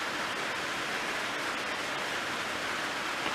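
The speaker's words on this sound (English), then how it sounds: "it just started raining. I don't know if you can hear it on the steel roof." Steady rain drumming on a steel roof over a shed housing a tractor, a dense, even hiss of drops that stays constant throughout with no talk.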